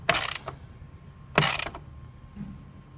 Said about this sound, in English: Okay, ratchet goes on, give it a little tighten.